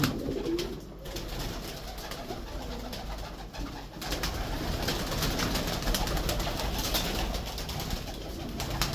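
Kasuri pigeons coo in low, rolling calls up close, layered over a steady noisy background with occasional clicks and rustles.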